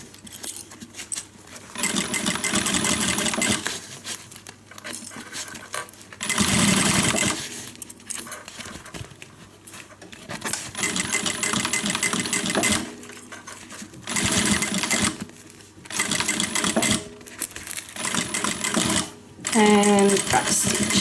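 A sewing machine stitches and back-stitches a fabric guitar-shaped handbag in close, rapid mechanical bursts. The runs start and stop repeatedly, separated by short pauses.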